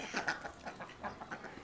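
Chickens on a farm clucking softly in a quick run of short calls, fairly faint and close, with nothing else prominent.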